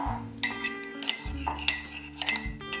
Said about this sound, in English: And now you want to mix the sugar,